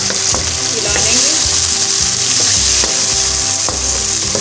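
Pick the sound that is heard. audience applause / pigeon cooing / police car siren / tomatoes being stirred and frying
tomatoes being stirred and frying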